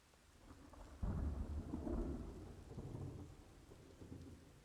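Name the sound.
rain and thunder in video game Ring of Elysium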